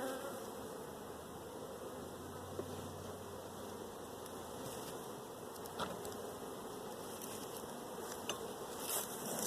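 Honey bees swarm and buzz around an open hive during a brood-frame inspection, a dense, steady droning hum that fills the whole stretch with no one speaking.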